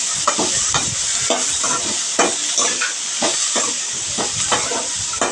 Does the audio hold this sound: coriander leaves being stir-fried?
yes